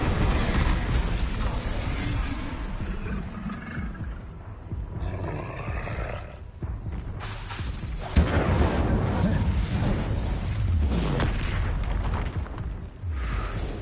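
Roaring magical fire bursts from the Incendio spell in Hogwarts Legacy on PS5, a dense, loud rumble of flame and impacts repeating through the scene amid combat noise and a speaking voice.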